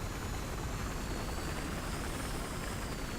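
A helicopter flies in the video game Battlefield Hardline, giving a steady, dense rotor-and-engine roar that stays even and fairly loud throughout, with no voices.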